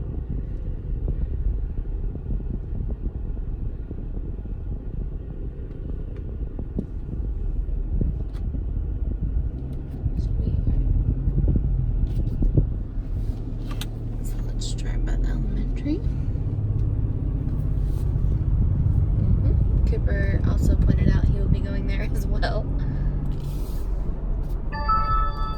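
A car drives slowly through a residential neighborhood past an elementary school, its steady low engine and road rumble continuous throughout with light wind noise, while a person talks over it.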